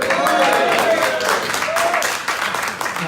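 Audience applause at a 1 Million Cups pitch event in Daytona Beach: a steady, full burst of clapping from a sizable room that holds for a few seconds and gently tapers off.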